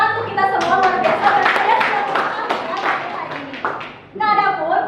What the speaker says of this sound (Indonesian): tepuk tangan untuk kita semua, luar biasa